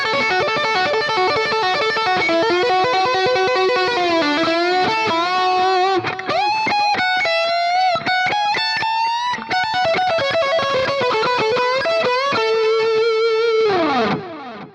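Electric guitar solo played through a Fractal Axe-FX preset with a boost and mono tape delay, a loud, distorted lead with sustained bends, fast runs and delay trails, ending in a pitch dive, with no voices.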